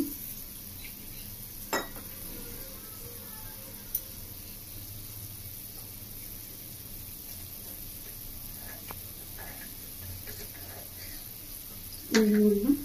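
Cornflour is stirred into water with a spoon, giving a few faint scrapes and sharp clinks against the container, the last one a louder swirl near the end over quiet background noise.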